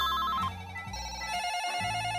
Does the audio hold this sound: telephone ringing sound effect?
yes